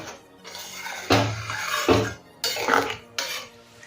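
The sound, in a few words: stirring potato and pointed gourd curry in a pan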